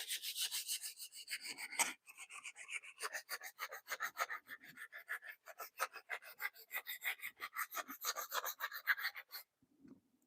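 Wood being hand-sanded to work glue into a gap-filling paste, a steady run of quick rasping strokes in an even back-and-forth rhythm, close and fairly quiet, with a brief pause near the start and a stop just before the end.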